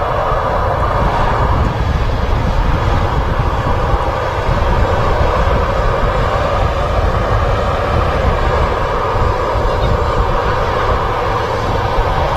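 An airliner at Manchester Airport produces a loud, sustained jet engine roar, steady and close, with a slight shift in tone midway and no talking.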